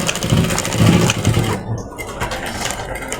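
A sewing machine stitches a zipper onto a shalwar pocket, running in a steady fast whir for about a second and a half before slowing and stopping, close by.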